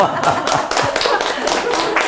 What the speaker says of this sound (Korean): 박수 한번 해줘요